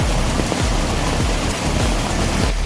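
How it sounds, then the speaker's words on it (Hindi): Loud, dense rushing of heavy monsoon rain in the mountains of Uttarakhand, a constant roar of water that stays unbroken throughout, with low thumping rumbles underneath. "तो इतनी ज़्यादा बारिश हो चुकी है"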